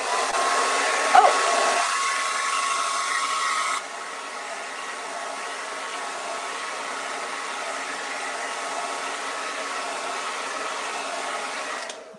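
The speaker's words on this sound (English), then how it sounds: "Let me grab the hair dryer and just blast right around here" A hair dryer blasts steadily, used to dry paint on a witchy craft piece, a loud continuous rushing whir that drops to a lower setting partway and runs alone until it clicks off.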